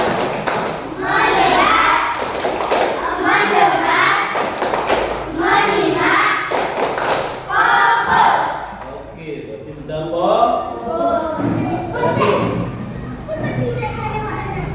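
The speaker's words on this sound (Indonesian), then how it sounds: "mari sama-sama kita tepuk fokus" A primary class in Aceh Selatan doing the 'tepuk fokus' focus clap, children chanting loudly together and breaking into short bursts of synchronized hand claps between the chanted lines, close and lively in a classroom.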